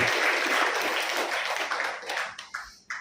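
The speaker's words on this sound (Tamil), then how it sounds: "உங்களின் மீண்டும் பலத்த கைத்தட்டல்களோடு" Audience applause at a speech event at a cancer center, a dense burst of many hands clapping that thins out into a few scattered claps toward the end.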